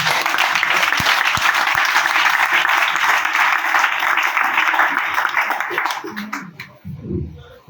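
Congregation applause acclaiming Jesus during a French-language church service, a dense sustained clapping that holds steady for about six seconds and then thins out, with a few sharper claps and murmuring voices as it dies away.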